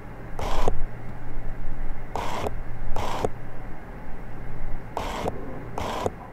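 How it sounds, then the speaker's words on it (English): A Canon EF lens with an ultrasonic (USM) focus motor, its glass elements sliding inside as it focuses. Five short, soft whirring scrapes come close up over a faint steady hum. "most of the sound you hear when focusing on a USM lens is actually from the glass elements sliding around inside the lens."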